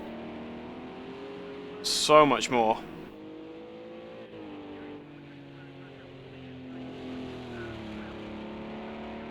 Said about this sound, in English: This is going to amplify the sound of these monstrous GT3 cars